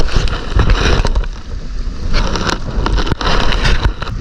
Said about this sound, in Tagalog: malakas po yung hangin mga kasuper